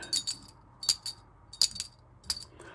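Bright metallic clinks in quick little clusters, four bursts of two or three taps each, close and crisp with quiet gaps between.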